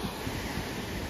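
Ocean waves washing against a rock formation on the Samar coast, a continuous low rushing roar of surf with no distinct breaks, steady and unbroken for about a second with no voices.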